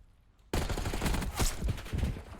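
Rapid video game gunfire erupts suddenly after a quiet moment in a competitive XP League match, a loud, dense burst of overlapping shots that runs continuously to the end.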